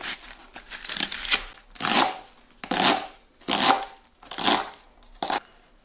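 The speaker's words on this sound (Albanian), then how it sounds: "Edhe kështu i coptojmë krejt për rejt." A knife chops leeks on a board for a traditional Albanian leek pie, six distinct bursts of crisp cutting strokes spaced about a second apart, close and clear with no talk.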